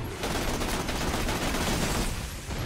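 Dense, loud bursts of automatic gunfire from the video game Borderlands The Pre-Sequel, rapid shots in near-continuous fusillade close up, briefly easing near the end.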